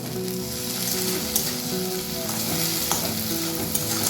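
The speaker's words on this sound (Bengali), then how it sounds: "পেঁয়াজের সাথে টমেটোটাকেও ভেজে নেব।" Onion and tomato fry in a pan with a loud, continuous sizzle, with a few soft stirring clicks over the top.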